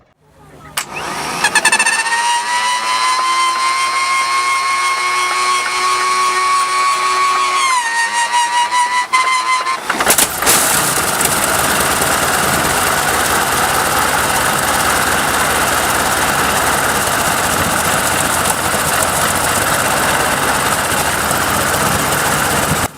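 A working replica of a historic engine at Sovereign Hill Victorian Town starts up, its steady harmonic running tone building, then shifting abruptly to a loud, dense, continuous mechanical roar that holds close and strong throughout.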